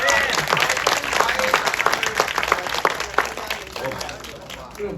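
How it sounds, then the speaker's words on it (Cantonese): An audience applauds at a thank-you screening of the film Chu Dian (觸電), with dense, close clapping throughout and voices talking underneath. "俾啲掌聲"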